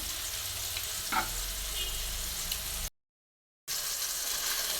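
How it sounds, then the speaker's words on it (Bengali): Radish, potato and carrot bhaji fries in a pan with a steady, close hiss and crackle, cut by a short silent gap before the sizzle resumes. "আর এদিকে বসিয়ে দিয়েছি ভাজি। মূলা, আলু আর গাজর দিয়ে একটা ভাজি করলাম।"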